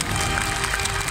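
Dense, steady applause filling a large congress hall at a business forum for entrepreneurs in an expo centre, a continuous close wash of clapping with no break.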